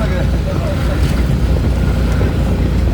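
Riding in a Piaggio Ape auto-rickshaw: a loud, close, steady engine drone mixed with rushing wind buffeting the microphone, unbroken throughout.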